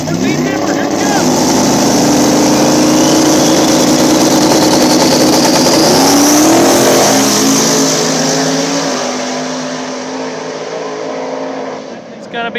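Small tire drag race cars launch down the track, a loud, roaring engine blast that rises in pitch as they accelerate away, then fades into the distance.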